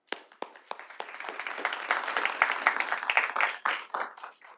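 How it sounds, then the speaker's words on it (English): Applause breaks out at a city board of directors meeting: a few separate claps grow into a dense, lively round of clapping that holds for several seconds, then thins out. "I want to give you all a round of applause."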